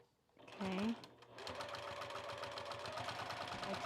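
Sewing machine stitching along the fabric edge of kite pants, a steady fast mechanical chatter that starts after a brief voice and runs on evenly and close.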